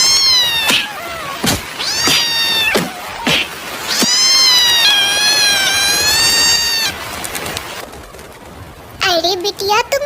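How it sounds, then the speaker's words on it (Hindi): A cartoon cat chasing a small bird in the rain yowls loudly in long, wavering, drawn-out meows one after another, ending with a burst of high chirping. "अरे ये खतरनाक बिल्ली इतनी जोर जोर से आवाजें क्यों निकाल रही है"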